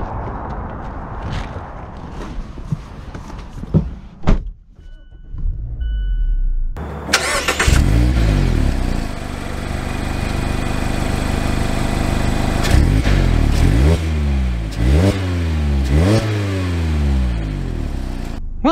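A 2022 Mazda MX-5 Miata RF Grand Touring cranks briefly after a few quiet clicks, then fires into a loud, close idle and pulls away with several rising revs as it shifts through gears.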